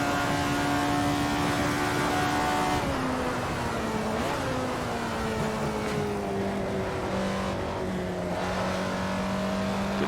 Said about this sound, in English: see if we can nail this downshift here